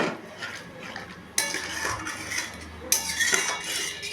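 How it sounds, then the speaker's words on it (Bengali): Soybean curry stirred in a pan after water is added: a spoon scrapes and clinks against the metal in bursts, with wet sloshing, close and fairly loud, and no talk. "জল অ্যাড করলাম, নাড়াচাড়া করবো।"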